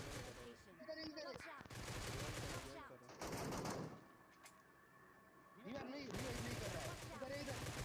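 Automatic gunfire in PUBG Mobile on the Erangel map, with several loud bursts of rapid shots separated by short pauses.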